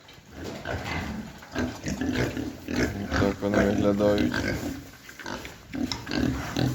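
Piglets grunt and squeal close by in a busy, continuous chorus, while a person talks briefly over them.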